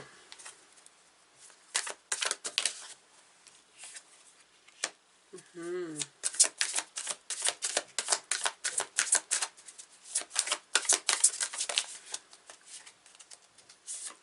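Tarot cards are shuffled and picked, giving repeated soft riffling flutters and light snaps close by, with a voice briefly heard partway through.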